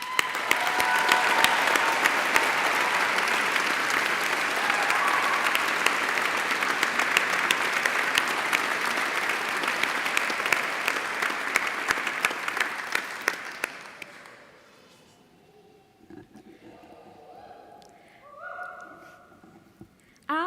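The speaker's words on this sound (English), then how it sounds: "So if we could have an applause" Graduation ceremony audience at Rochester Cathedral, University of Kent, gives sustained, loud crowd applause that fills the room, then tapers off quickly, and faint talk follows in the quiet afterward.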